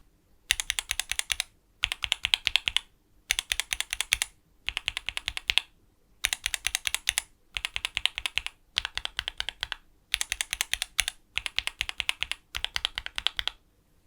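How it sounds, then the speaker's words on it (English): Fast typing on a VEGA custom mechanical keyboard with lubed and filmed JWK linear switches, close and clear, coming in ten steady bursts of rapid keystrokes separated by short pauses. "JWK linears are slightly on the thinner sounding side, and yeah, listen to the difference between stock and modded."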